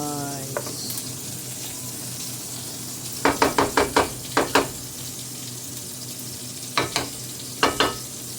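Fried rice with frozen mixed vegetables being stir-fried for breakfast, a steady sizzle in the pan broken by sharp bursts of scraping and clacking as the spatula tosses the rice in quick runs.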